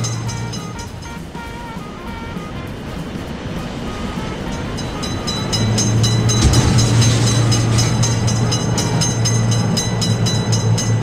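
A train rumbles loudly past a road railway crossing in a video game, a constant roar that swells and deepens midway as the cars pass closest, with no speech.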